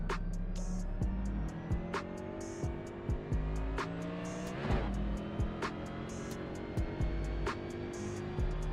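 A race car engine in a video game revs and shifts repeatedly, rising whines cut by rhythmic gear changes, steady and fairly close throughout.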